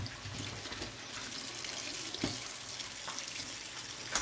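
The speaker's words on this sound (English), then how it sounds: "I'm just washing up, get some of these out of the way," Water runs steadily from a kitchen tap while dishes are washed beneath it, a close continuous rush with a few brief clinks and knocks, alone with no talk.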